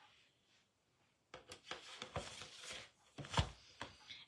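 A paper trimmer slices along the edge of a crafting paper sheet, giving a few close, crisp scraping and cutting strokes after a quiet start.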